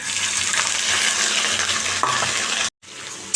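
Chopped onion lands in a pan of spiced meat frying with bay leaf, garam masala, cardamom, cloves and cinnamon, giving a loud, continuous close sizzle that cuts out briefly near the end before resuming.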